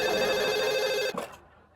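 Telephone ringing with a steady, sustained electronic bell tone that cuts off abruptly partway through, leaving near silence after.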